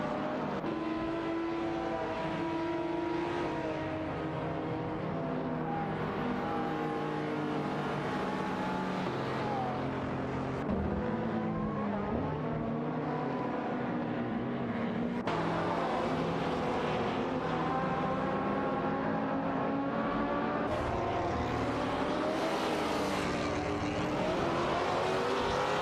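Race cars in an AI-driven racing video game roar continuously, their engine notes rising and falling as they accelerate and pass. The mix is dense and loud throughout, with no voices.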